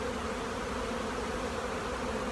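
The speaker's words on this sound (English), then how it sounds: "what I'm going to do is I'm going to shake the bees into this tub" Honey bees buzzing in an open hive's fall brood nest, a dense, even drone held close and steady throughout.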